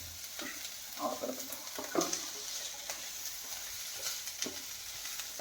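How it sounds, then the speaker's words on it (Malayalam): Capsicum sautéing in a pan for a Kerala-style egg roast, with a steady soft sizzle and scattered stirring scrapes and clinks through the short stretch. No talking. "ക്യാപ്സിക്കം ഇടാം. ക്യാപ്സിക്കം എൻ്റെ ഒന്ന് ഇളക്കിട്ടിട്ട്"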